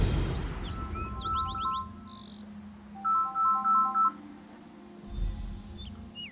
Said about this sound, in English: I really should put that phone on silent.